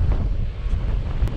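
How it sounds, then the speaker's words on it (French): Strong wind buffeting a cyclist on an early-morning road ride in western France, heavy low rumbling gusts roaring close against the microphone with no talk. "Ah, le vent, je l'adore."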